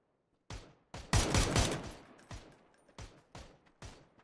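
Gunfire in the PUBG console battle royale game: a close, sharp shot, then a loud rapid cluster of shots, followed by four or five evenly spaced single reports.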